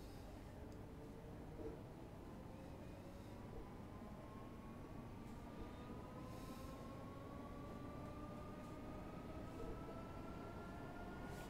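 A Class 313 electric train in Train Simulator pulls away from Kew Gardens toward Richmond, its motor whine rising steadily in pitch over a constant rumbling roll of wheels.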